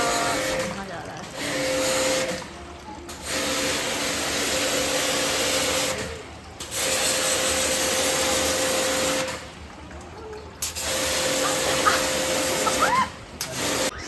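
A pressure washer sprays water while a cooler is cleaned, a loud, hissing rush of spray coming in bursts of several seconds with short quiet gaps between them, and a steady hum underneath.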